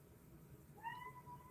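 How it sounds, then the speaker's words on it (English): A house cat gives a rising, drawn-out meow partway through, moderately close and alone over quiet room noise. "One of my mom's cats is talking to me. He's very vocal."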